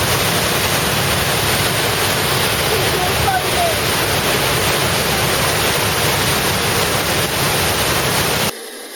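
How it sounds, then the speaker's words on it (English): A Swiss waterfall pours down over rock, a loud, continuous broadband roar of rushing water heard close and steady throughout, cutting off abruptly just before the end. "here's the sort of waterfall that comes down."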